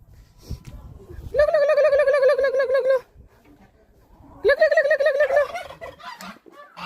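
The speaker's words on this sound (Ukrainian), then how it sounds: "Індички!" Turkeys gobble loudly close by in two long, warbling bursts separated by a short pause.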